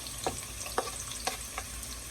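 Onions added to a hot frying pot, a soft sizzle with a few sharp spatula taps or stirs spaced regularly, fairly quiet and close.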